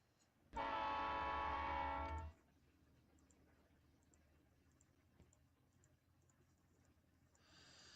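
A train horn blasts in a 1969 railroad video game for about two seconds, followed by quiet low rumbling and faint clicks of rolling rail cars, then a soft rise at the end.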